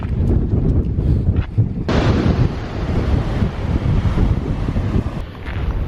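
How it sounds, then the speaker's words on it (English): Strong coastal wind near Orford Ness, outside a sailing club, roars and buffets the microphone in a continuous loud rush with gusty surges and no voices. "It's pretty windy."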